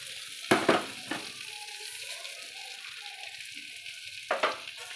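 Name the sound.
stirring cumin, bay leaf, dried chilli, turmeric, salt frying in oil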